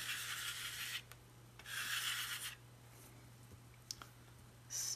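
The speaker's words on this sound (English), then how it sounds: "I think I'll use the short end of the card here and do a couple of swipes." An edge of a card is dragged through wet paint on paper, giving two long, close, soft scraping swipes separated by a brief pause, with a few faint clicks and another short scrape at the end.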